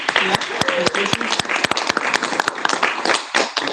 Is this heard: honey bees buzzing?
no